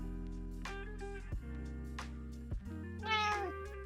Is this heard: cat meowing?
yes